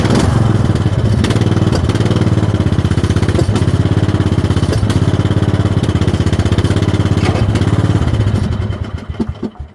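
A 2007 Craftsman rear-engine riding mower starts and runs after sitting five years, its small engine chugging loudly and steadily with clattery mechanical knocks before winding down at the end.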